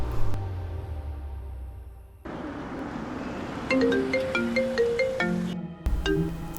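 An incoming video call rings on a phone, a bright melodic ringtone of repeated rising notes sounding close and clear after a brief stretch of engine and room noise.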